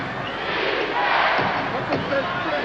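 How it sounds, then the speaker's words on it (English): Basketball arena crowd in a 1992 regular-season game, chanting defense as a broad, rhythmic roar that swells midway, heard at a distance beneath the general din. "The crowd again chanting defense."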